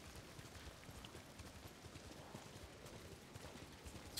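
A horse trots in Ghost of Tsushima, its hooves clip-clopping in a steady, faint, continuous rhythm under a wash of rainy background noise.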